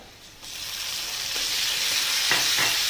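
Ginger, garlic and green chili paste hitting browned onions in hot oil for a tilapia fish curry, a close steady hiss that swells louder and stays strong, with no voices.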